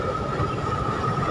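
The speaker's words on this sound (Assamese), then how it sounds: "অকল অকল কৰে গৈ আছে ইঞ্জিনটো" A lone train engine rolls past at Chaparmukh railway junction, a steady loud rumble with a sustained whining tone, heard continuously at moderate distance.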